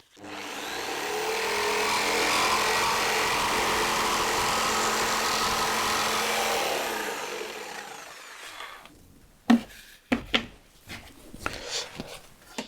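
Jigsaw cutting through melamine board, a loud steady buzzing whine for about seven seconds that winds down, followed by a few knocks and clatters.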